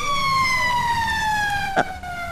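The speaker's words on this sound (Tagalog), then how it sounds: "Tapay nga agsasaruno dagiti bumbero a lumabas" Fire truck sirens wail steadily as the engines pass by, a continuous rising-and-falling tone with a brief louder burst near the end and no talking.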